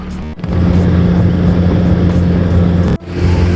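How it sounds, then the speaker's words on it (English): A Mercury 9.9hp outboard engine on a Saturn BB290 inflatable boat runs at full throttle, a loud steady drone with a brief dip near the end before the roar resumes. "then hit it full throttle"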